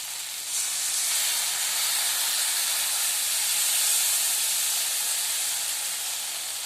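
Tamarind water poured into a hot pan, setting off a loud, steady hissing sizzle that starts abruptly and keeps up strongly for several seconds, close by.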